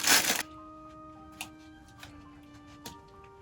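A squishy item being pulled out of its plastic packet: a short crinkling rustle at the start, then a few sparse faint crackles and ticks of plastic over a quiet background, with a faint steady hum.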